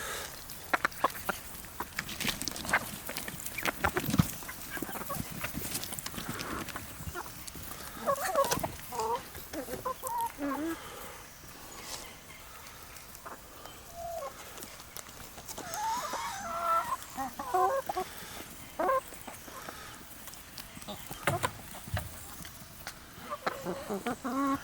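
Chickens and a rooster clucking close by while feeding on blackberries, a busy mix of overlapping clucks and squawks with scattered sharp calls throughout.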